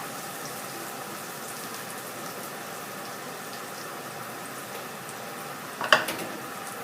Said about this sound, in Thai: ใส่ กระเทียมกับหลักกระชี่ลงไปผัดก่อนนะคะให้หอมนะคะ